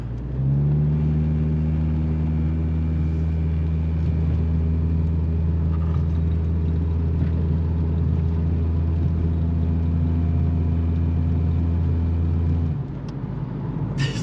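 A Mk2 Jetta with a homemade exhaust labors up a hill under full throttle, its steady low engine drone and exhaust rumble holding loud and close for about twelve seconds before easing off at the end.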